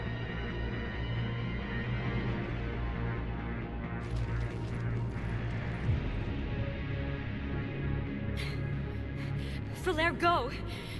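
Mechanical creaking and clanking from an elevator mechanism in a video game, a steady low rumble with scattered metallic rattles and a brief squealing burst near the end, with voices talking over it.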